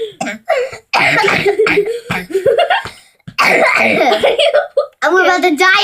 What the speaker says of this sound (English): I'm about to die of cough.